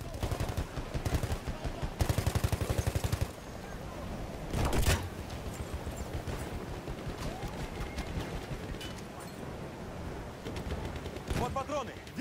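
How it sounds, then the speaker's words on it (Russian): Enemy machine gun fire in Battlefield 1, loud rapid bursts of automatic gunfire with scattered single shots and a heavy blast, continuing busily throughout a chaotic battle with voices shouting underneath. "Пулемет противника!"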